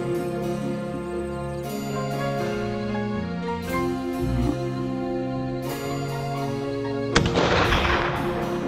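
A single sharp rifle shot cracks out near the end during a hunt in New Zealand, loud and close, over steady background music that carries through the whole stretch.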